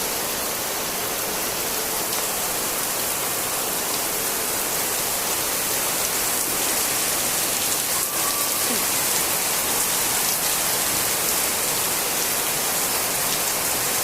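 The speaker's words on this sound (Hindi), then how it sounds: "बहुत तेज़ बारिश हो रही है हमारे गाँव में" Heavy rain pours down steadily over a village, a dense, even hiss of drops striking surfaces that continues without a break.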